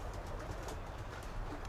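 Pigeons cooing in a pigeon loft, soft rolling coos repeating close by in a short burst, no talk over them.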